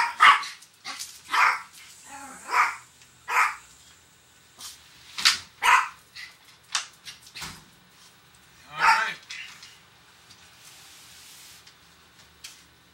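Several dogs bark in quick, loud bursts, some clustered and overlapping, some spaced out, with a few fainter yelps between them and quiet gaps toward the end.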